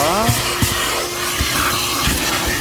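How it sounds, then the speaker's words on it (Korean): A vacuum cleaner draws steam moisture out of a car interior after steam cleaning, a steady loud whooshing hiss with a few short bumps and knocks, running throughout. "이렇게 습기를 또 청소기가 빨아내야 됩니다"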